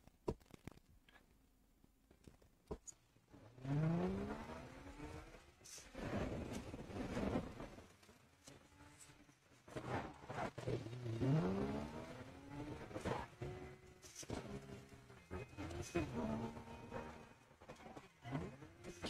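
Engine of a Porsche in a video game revving in rising sweeps, two prominent climbs with gear-change dips, loud and close over a steady rumble.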